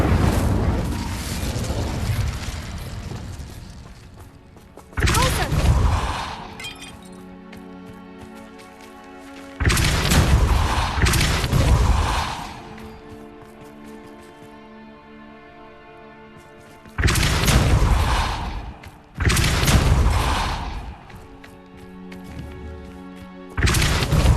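Incendio fire spell cast in Hogwarts Legacy, several loud whooshing bursts of flame in repeated waves, each followed by quieter crackling and ringing tones, rising and falling across about twenty-four seconds.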